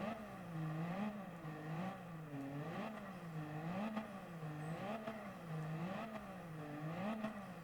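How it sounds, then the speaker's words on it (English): A mini truck fitted with a racing exhaust and stiffened suspension revs its engine in repeated rising and falling surges, loud and close, with a crackling, whirring edge and no talking. "I'll put it straight into the racing exhaust."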